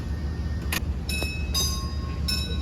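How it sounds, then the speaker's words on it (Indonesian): The Arjuna Express rolls past at small Porong station as a steady, close low rumble, with faint metallic clicks and a thin high squeal laid over it. "di sini kita akan bersilang dengan kereta api Arjuna Express"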